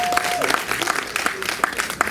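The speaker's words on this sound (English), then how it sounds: "please a round of applause for him, please." Audience applause at a church revival night, with brisk clapping and scattered louder claps, a few voices and a brief tone mixed in, fairly close and moderately loud.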